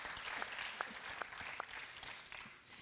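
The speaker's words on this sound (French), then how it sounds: "Vous pouvez l'applaudir, François-Xavier Devetter" A conference room full of people at a trade union national council claps steadily, a dense patter of applause with a few sharper claps standing out near the front.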